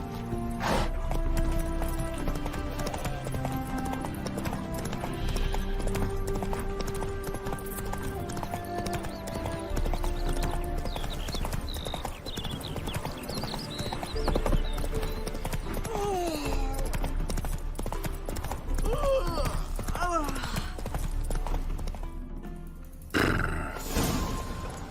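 Roach the horse trots in The Witcher 3: Wild Hunt, steady hoof clip-clops running throughout beneath a dense game soundscape of music and ambience, with a horse snort and other effects toward the end.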